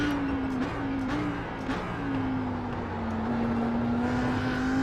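An Audi R8 GT3 is held at full throttle around the Bathurst circuit in a racing video game, with a sustained engine drone whose pitch dips and climbs slightly through the gears and bends.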